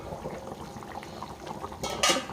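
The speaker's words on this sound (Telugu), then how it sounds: "చూడండి ఎలా ఉడుకుతుందో." Nellore-style tamarind fish curry with mango pieces simmers in a pot, soft bubbling and sizzling at close range, with a brief clink of a utensil against the vessel near the end.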